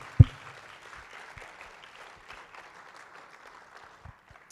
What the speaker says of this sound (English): Can we just give him a round of applause of appreciation?